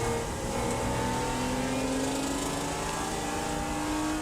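An endurance race car at Watkins Glen in the rain easing back onto the power, its engine note climbing steadily as it accelerates, loud and continuous.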